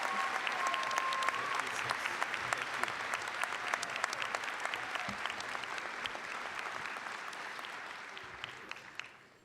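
Sustained audience applause at a college graduation ceremony, a dense wash of many hands clapping that stays strong before gradually tapering near the end, with a brief tonal voice or whistle early on.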